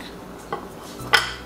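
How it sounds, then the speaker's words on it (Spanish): Tomatillos and onion drop into an oven-safe pan in two brief clattering knocks about half a second apart, close and fairly quiet against a faint background hum. "En un sartén o en un molde que puedan meter al horno, vamos a agregar los tomatillos"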